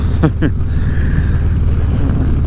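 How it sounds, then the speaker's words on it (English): Strong gusting wind roars steadily around the microphone while a house-sized flag flaps hard, a brief voice heard near the start. "It is huge, and it is really flapping in the wind right now"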